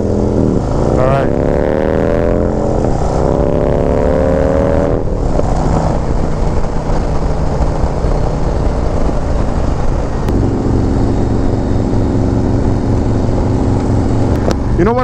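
A 2024 Harley-Davidson Street Glide with a 135 engine roars on the move, its loud, steady engine and wind rush filling the ride; someone talks over it at the start.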